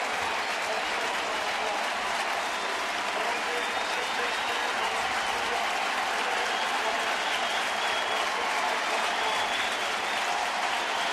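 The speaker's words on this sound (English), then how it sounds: "Crowd does not need Adrian Chambers to tell them to get on their feet here this afternoon" A stadium crowd at a 2011 Cubs at Cardinals baseball game cheers and applauds steadily in a loud, continuous roar as the Cubs are down to their last out, with a commentator talking over it.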